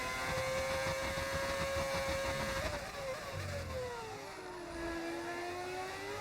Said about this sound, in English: Why does it sound like a V12?